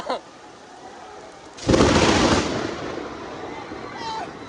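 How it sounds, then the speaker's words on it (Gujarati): A sudden loud crack of thunder from a lightning strike booms after a quiet moment during heavy rain in Surat, then rolls and fades into a lingering rumble with rain hiss. "આ વીજળી પડી"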